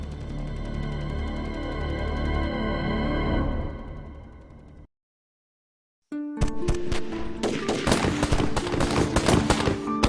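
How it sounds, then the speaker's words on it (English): Heavy battlefield gunfire crackles loud and dense with rapid overlapping shots from many directions, following a swelling music-like passage and a brief silence. "The shooting comes from everywhere."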